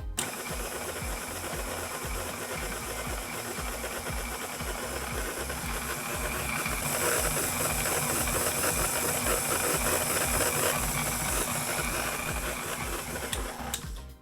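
An electric mixer on speed 2 churns hot cocoa cookie dough with a continuous close motor whir and rattle. The whir grows slightly louder midway and cuts off at the end, with no talking.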